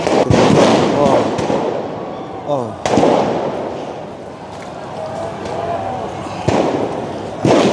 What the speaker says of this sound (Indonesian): Ada suara petasan